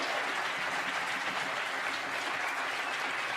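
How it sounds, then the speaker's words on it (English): An audience applauding musicians after a performance, a dense, continuous wash of clapping held steady and fairly distant throughout. "So let's give these guys and women an incredible round of applause."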